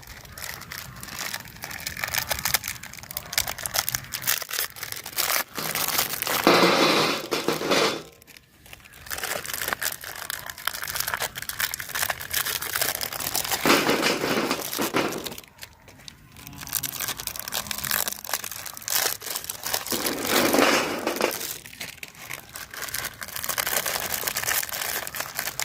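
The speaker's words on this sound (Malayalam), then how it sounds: "അപ്പോൾ നമുക്ക് ഈ ബിസ്ക്കറ്റ് ഇതിലേക്ക് പൊട്ടിത്തരാം." Biscuits snapped and crumbled by hand into a bowl for biscuit dosa, a steady run of dry crinkling, cracking and crunching close by, with a few brief pauses.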